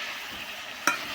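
Cumin paste hits hot oil while cooking a rajma chicken curry, giving a steady sizzling hiss with one sharp, brief splatter burst near the end.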